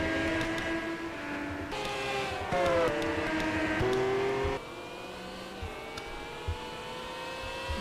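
Several race cars roar past in a sustained, loud engine drone whose pitch shifts up and down as they accelerate and lift on the final laps. The sound is continuous with no talking.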